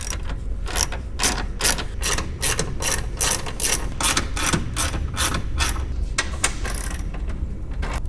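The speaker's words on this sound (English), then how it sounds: "Go ahead and remove those 4 bolts" A hand ratchet winds off four 10mm grille bolts on a RAM truck, a steady run of quick, close clicking bursts repeated in rapid rhythm throughout with no talk.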